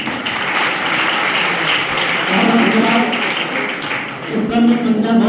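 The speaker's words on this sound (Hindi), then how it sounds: "तालियां बजाइए।" An audience at a Veer Bal Diwas gathering in Barabanki gives continuous moderate applause, with a voice beginning to speak over the clapping near the end.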